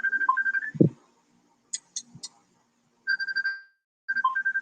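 A mobile phone rings with an incoming call, a melodic ringtone repeating in bright tonal phrases with short gaps, loud and close, with a brief low thump partway through and no talk over it.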